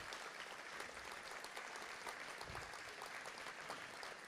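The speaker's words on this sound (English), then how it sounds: "give them a round of applause and stay standing here." Hall of fame ceremony attendees applaud standing coaches, a faint but continuous hiss of many hands clapping, distant and even throughout.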